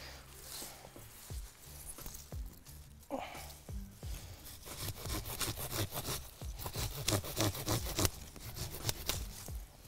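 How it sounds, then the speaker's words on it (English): A pruning saw cuts through a thick forsythia stem outdoors, starting with hesitant strokes and settling into a fast, rhythmic rasping of back-and-forth strokes through the wood, close and fairly quiet. "this is quite a thick stem, so I'm probably going to use my pruning saw for this one"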